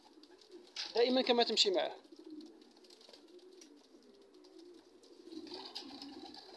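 Racing pigeons coo softly in a loft, with one brief, louder burst of calling near the start and faint, low murmuring afterward while someone talks nearby.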